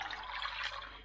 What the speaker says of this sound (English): I soak these chickpeas overnight, so I'm just gonna pour in some water